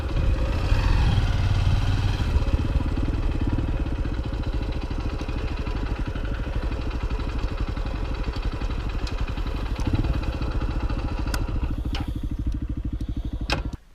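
A motorcycle idles near a mountain view deck in Abra, its engine putting out a steady, close, chugging rumble that holds even for about fourteen seconds, with a small bump partway through and a few light clicks near the end.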